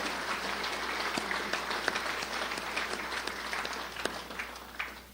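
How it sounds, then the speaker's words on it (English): Sustained applause from an audience at a city's State of the City address, steady dense clapping filling the whole stretch with a few sharper individual claps standing out. "Let's put our hands together"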